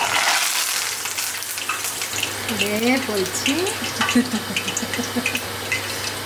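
Red banana stem pieces frying in hot oil give a bright, spattering hiss that is loudest at first and then continues under someone talking.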